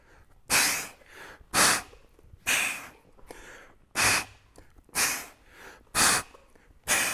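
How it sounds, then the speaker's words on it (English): Seven forceful, breathy exhales come at regular intervals, roughly one per second, during a kettlebell pullover sit-up press. Each is a loud, close hiss of air, with quiet movement between them. "You will hear lots of exhales. I am exhaling at every point where I want my core to contract."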